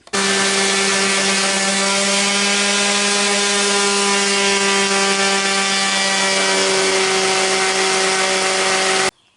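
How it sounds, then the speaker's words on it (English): Steady, continuous abrasive whirring at close range, unbroken for about nine seconds, with a strong constant hum; sounds like power sanding of wood. "now it's time to sand this thing down"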